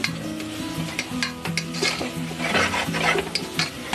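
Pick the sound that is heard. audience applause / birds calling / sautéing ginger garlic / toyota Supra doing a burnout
sautéing ginger garlic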